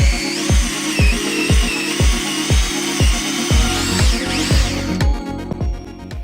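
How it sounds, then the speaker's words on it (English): An Ozito 18V brushless cordless drill spins a 13mm fluted bit into timber, giving a close, loud rising whine over a fast, regular series of chattering pulses, then a brief harsher burst at the end, with no voices. "Next I'll try a 13mm fluted drill."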